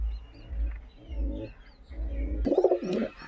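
Pigeons kept at home coo in soft, low repeated bursts, fairly close, with a louder throaty call near the end and faint chirps in the background.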